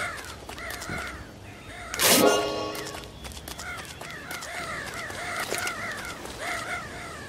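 Crows in Family Guy: Back to the Multiverse caw repeatedly in short rhythmic bursts, several voices overlapping at moderate distance, broken midway by a brief loud whooshing hit, with soft clopping and ambient noise underneath.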